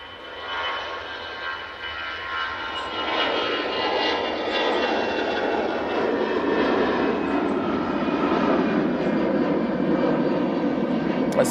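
An EasyJet airliner at Manchester Airport, its jet engines swelling from a moderate hum into a sustained loud roar with a whining tonal edge, steady and close through to the end.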